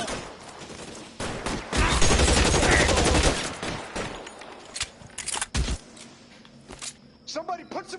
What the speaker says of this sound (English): Son of a bitch shot me!